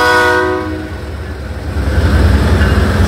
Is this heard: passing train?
yes